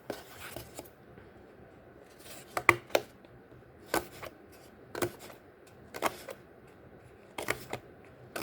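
Scissors snip slits around the rim of a paper plate to prepare a radial weaving loom, each cut a short crisp crunch arriving in irregular bursts close to the microphone, with quiet room noise between cuts and no talking.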